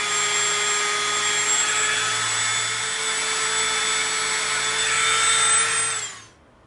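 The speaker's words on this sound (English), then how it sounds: "We're going to come in with our little bit. We're going to make a cool little rivet mark." A small rotary tool bit whines steadily at high pitch while pressing rivet marks into EVA foam, holding one droning tone for about six seconds before the motor cuts off and spins down quickly; no talking.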